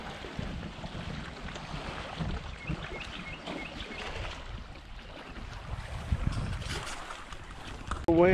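Kayak paddles working through the water on Lake Brownwood in Texas, a steady wash of dipping strokes and rippling surface mixed with wind buffeting, continuous and fairly close throughout.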